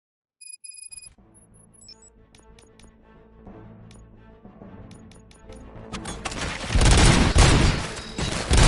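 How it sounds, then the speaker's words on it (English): Gunfire erupts in a RoboCop video game, with scattered metallic clinks and pings building into dense, loud bursts of shots near the end. "Gunshots? What's going on?"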